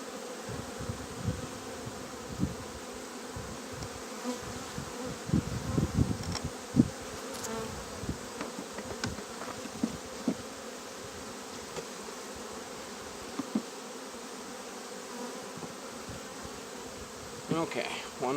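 Honey bees buzzing around an open hive during queen grafting, a steady close swarm hum with individual bees droning past the microphone.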